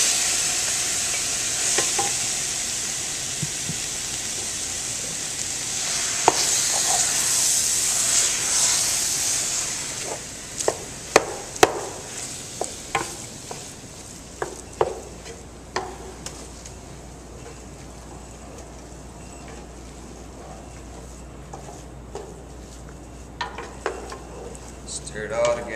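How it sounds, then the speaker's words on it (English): Cooked butternut squash being stirred into a nearly dry pan with brandy over low heat, a soft steady sizzle with scraping and light clicks of a utensil against the pan, close by. "Stir it all together, make sure it's all nicely incorporated."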